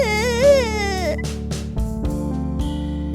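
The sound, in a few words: someone crying in the forest, cartoon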